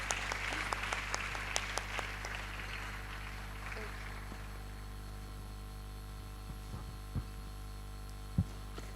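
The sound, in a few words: audience applause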